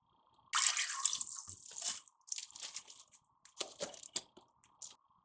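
Water drains and trickles from soaked basmati rice in a strainer, wet crackly patters and drips coming in irregular bursts, close and fairly quiet.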